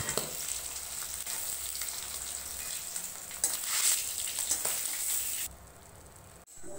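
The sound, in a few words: pangas fish frying in oil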